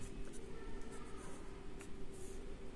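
Marker or chalk strokes on a classroom board as an equals sign is written during a math lesson, a few faint scratchy squeaks over a steady low room hum, with no talking.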